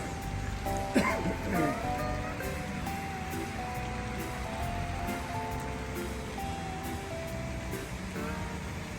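Rain falls steadily during a fishing trip, a soft, even patter that runs throughout, with a brief voice and a few faint tones over it early on.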